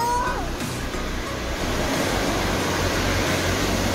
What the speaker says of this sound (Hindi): ये नदी बह रही है ना ऊपर से